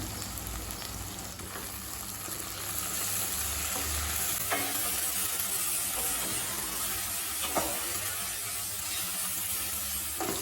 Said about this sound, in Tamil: இப்போ மிளகாத்தூள் வாசனை போக 1 நிமிஷம் வரைக்கும் நல்லா வதக்கியாச்சு